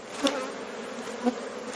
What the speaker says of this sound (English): I go ahead and shake these bees off of here